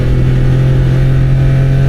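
A Suzuki minivan's engine labours uphill in drive on a long, steep climb, a loud, strained steady drone with a strong low hum and no let-up, heard alone without voices.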